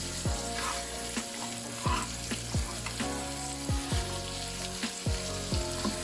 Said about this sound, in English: the purpose of frying is that we have to give it a nice golden color